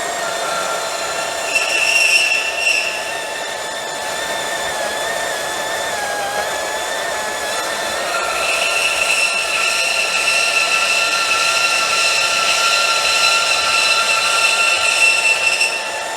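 Bosch GCB 18V-127 cordless band saw cutting a 75x70 steel section of 4.5 mm wall, a steady, loud metallic whine with sustained ringing tones that shift slightly in pitch, running continuously with no voices.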